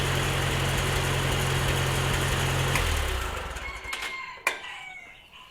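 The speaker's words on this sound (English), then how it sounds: "It just started right up. So it seems to miss a little bit. Not sure what that is, but it runs really well." A 1948 Farmall Cub tractor engine runs steadily with a low chugging idle and a slight miss, then shuts off around three seconds in, leaving a quiet tail with a single sharp clank.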